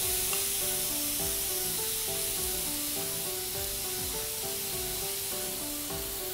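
Skewered pork satay sizzles on a grill as coconut cream is sprinkled over it, a loud, steady frying hiss that runs throughout under light background music.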